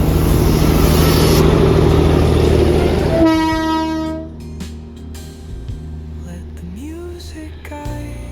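The Darjeeling toy train runs on its track near Batasia Loop, with a loud horn blast followed by rumbling and clatter from the wheels and carriages, heard close by.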